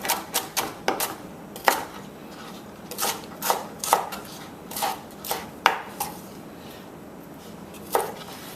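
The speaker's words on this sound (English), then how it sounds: "All you got to do is give that a rough chop." A knife rough-chops scallions on a cutting board in crisp, uneven thuds, first in a quick run, then scattered strikes with short pauses, close and clear with no talking.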